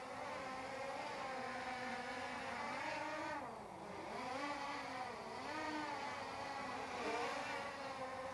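An F2-5G brushless GPS drone flies nearby with a loud, continuous high-pitched motor whine that rises and dips in pitch as it manoeuvres, with no talking.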